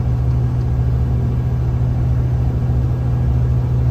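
A 560-horsepower automatic Western Star logging truck cruises on the road, with a steady, loud low rumble of tire noise that is constant throughout and has no talking.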